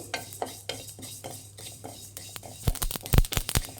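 Cumin seeds roasting in a pan as part of preparing heralekayi chitranna give off soft stirring scrapes, then a cluster of sharp, close crackles and pops near the end, with no talking.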